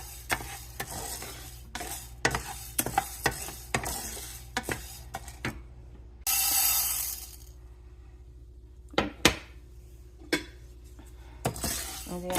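Split moong dal fries lightly in a pan as a spoon stirs and scrapes, giving repeated close clinks and taps over a faint sizzle, with one short louder hiss partway through.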